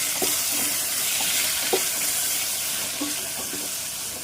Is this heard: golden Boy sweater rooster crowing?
no